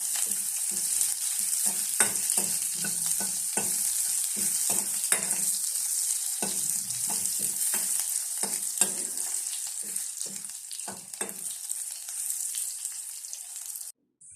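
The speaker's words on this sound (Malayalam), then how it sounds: "മുളക് കരിവേപ്പിലയൊക്കെ നന്നായിട്ടൊന്ന് ഫ്രൈ ആകുന്നവരൊന്ന് വഴറ്റിയെടുക്കാം" Dried chillies and curry leaves sizzle and crackle steadily in hot oil in a pan while making tomato sambar, with scattered scraping stir strokes throughout, close and continuous until it cuts off abruptly near the end.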